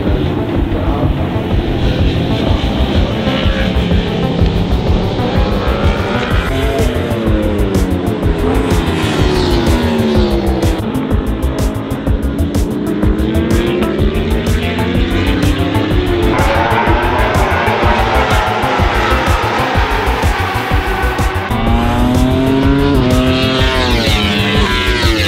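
Race cars launching at the start of a race, engines roaring loudly and rising and falling in pitch as they accelerate through the gears, with tire squeal mixed in throughout; no voices.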